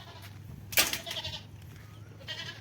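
A goat bleats once, fairly close and loud, in an outdoor yard outside a gate overgrown with tall grass, followed by fainter rustling and a low steady hum.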